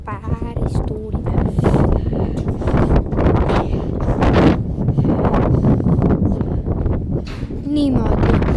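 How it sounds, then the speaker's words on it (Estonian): Strong seaside wind on the Estonian coast buffets the microphone in a loud, continuous roar with gusting surges, while a person talks intermittently beneath it. "Siin on ikka päris tuuline."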